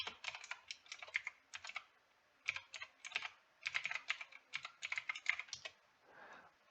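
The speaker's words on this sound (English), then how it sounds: "we first open terminal, then type cd environment, then activate our virtual environment." Computer keyboard typing commands into a terminal comes as quick bursts of crisp, close keystrokes separated by short pauses, alone without speech.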